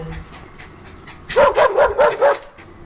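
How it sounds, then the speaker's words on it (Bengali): Two dogs, used as an audiobook sound effect, let out a quick burst of about five close, whining barks and yips after a quiet start, then fall silent. "দুটো কুকুর এই অনধিকার প্রবেশকারীদের পানে চেয়ে বিশ্রী সুরে অভিযোগ করতে লাগলো।"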